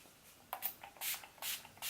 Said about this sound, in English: I'm using the Decay All-Nighter setting spray.